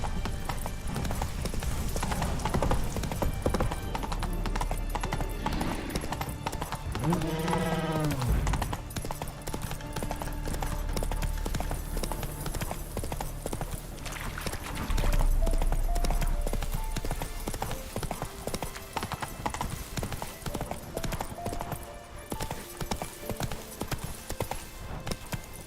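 Roach, a horse in a video game, gallops with rapid steady hoofbeats throughout, and a brief whinny comes midway.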